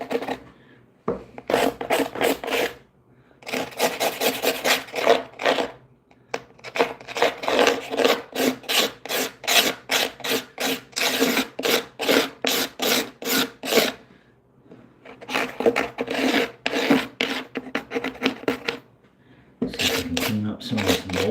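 Repeated rasping scrapes of a small screwdriver or tool digging old caulk and mold out of the seam around a bathtub, in rhythmic bursts with short pauses between strokes, close up.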